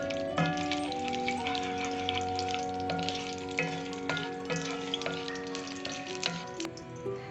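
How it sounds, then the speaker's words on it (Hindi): Cinnamon pieces and black peppercorns fry in hot oil with a bright, crackling sizzle, while faint tonal sounds ring over it steadily. "अब हम इसमें 2 से 3 अदद जो हैं वो दालचीनी के टुकड़े और 9 से 10 जो हैं वो काली मिर्चें डालकर उनको थोड़ी देर के लिए फ्राई करेंगे"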